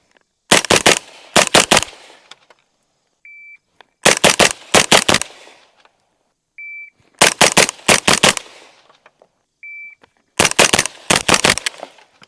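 Several cycles of a shot timer's short beep, each followed by a rapid string of loud, close rifle shots from an IWI Carmel at an outdoor range, separated by silent pauses.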